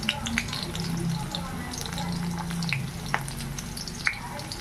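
Carrot frying in a pan while cooking pasta, a steady moderate sizzle with low hum underneath and a few sharp clicks of utensils.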